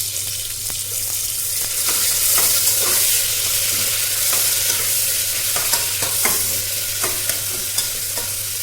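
Chopped tomatoes hit melted sugar in a hot pan, giving a loud continuous sizzle with repeated scraping and clinking of a spatula as the mixture is stirred.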